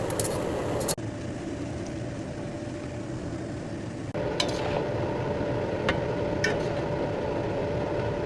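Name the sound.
cooking pancit canton noodles in a pan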